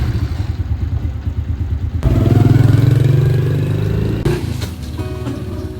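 A motorcycle engine idles with a rapid chugging pulse, then revs up loudly and steadily as the bike pulls away on a village ride, the roar shifting as it moves off.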